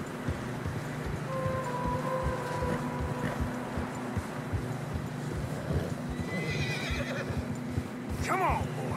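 Horses neigh and whinny over a steady bed of hoofbeats and ambient noise in the video game Red Dead Redemption, with a louder, wavering whinny near the end.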